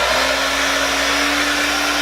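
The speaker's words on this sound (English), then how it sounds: "Blow dryer." A blow dryer blasts steady air onto the glued edges of a lace front wig, a loud, even whoosh with a constant hum running through the whole stretch.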